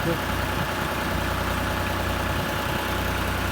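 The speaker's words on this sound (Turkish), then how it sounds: "traktörümüz Fiat 7556" Fiat 7556 tractor engine idling at a well pump installation site, a loud steady low rumble with even mechanical knocking throughout.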